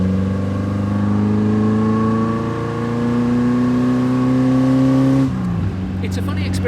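A classic Porsche with a wooden steering wheel drives at a relaxed pace, its engine note rising steadily through a gear before easing off near the end, loud and close, with a voice briefly heard.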